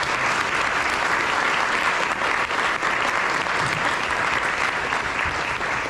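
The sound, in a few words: audience applause for two panelists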